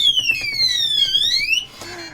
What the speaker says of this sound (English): You can make the alarm go off when it gets hit or when you type in the code wrong.